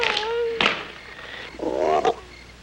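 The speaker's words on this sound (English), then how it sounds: "if you don't cut out that croaking" Frog croaking near a lake at night, a few loud rasping calls with pitch-sliding tones spread across under three seconds, no talk.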